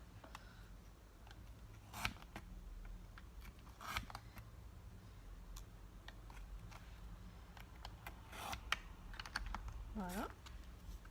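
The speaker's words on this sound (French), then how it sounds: "je coupe ce qu'il faut couper pour faire ma lettre" A We R Memory Keepers mini alphabet punch board cuts a paper letter. Faint clicks and snips repeat every couple of seconds against a low, steady background hum, with a quiet voice at times.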